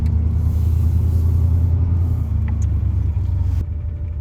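A vehicle on an off-road outing drives along with a loud, steady engine rumble and road noise close by, holding an even drone with no talk.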